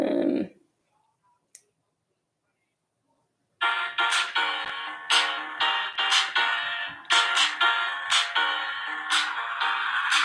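A phone alarm ringtone plays loud and close in repeated bright electronic bursts after a short pause, with no one talking over it.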